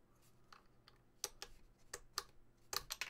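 Keycaps on a mechanical keyboard give a handful of quiet, sharp clacks in irregular bursts, some single and some doubled, close but faint against a soft hum.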